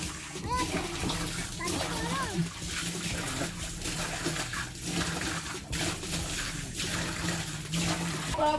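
Water splashes and sloshes steadily while a water tank is cleaned, continuous and fairly close, with a voice and other talk breaking in now and then.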